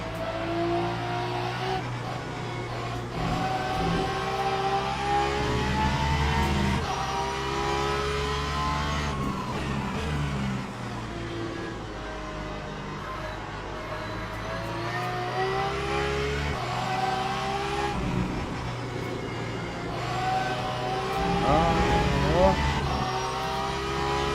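A Ferrari race car engine revs and shifts continuously around the Spa circuit in a racing game, loud and droning with rising and falling pitch, while a voice talks over it.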